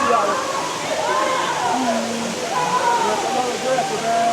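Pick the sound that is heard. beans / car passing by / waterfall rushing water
waterfall rushing water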